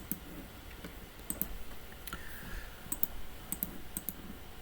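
A computer mouse clicks sharply and quietly several times, some in quick pairs like double-clicks, against a faint room hum.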